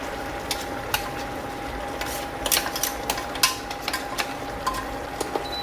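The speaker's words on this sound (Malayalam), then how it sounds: "അപ്പം അതൊന്ന് നന്നായിട്ട് മിക്സ് ചെയ്യാം" A ground spice paste is stirred into a pot of Kerala koottu theeyal curry with tamarind, giving a soft steady simmer broken by light spoon scrapes and clicks against the pot, close and unaccompanied by talk.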